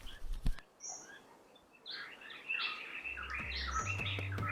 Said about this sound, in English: One of the uncommon birds of the magpie family, also a rarer one, is the common green magpie.